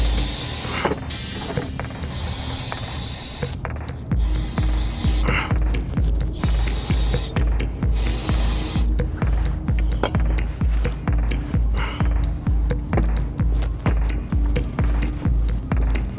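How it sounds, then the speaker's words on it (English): Brake parts cleaner is sprayed onto the front brakes of a 2017 Hyundai Elantra. Several long, loud hissing blasts come close by, then a steady rhythmic mechanical pulsing continues on its own. "So you want to take your brake parts cleaner again. Give this all a good blast."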